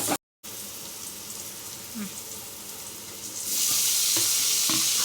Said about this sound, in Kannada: ಈರುಳ್ಳಿ ಹಸಿಮೆಣ್ಸಿಕಾಯಿ ಎಣ್ಣೆ ಹಾಕ್ಕೊಂಡು ಚೆನ್ನಾಗಿ ಫ್ರೈ ಮಾಡ್ಕೊಂಡಿದ್ದೀವಿ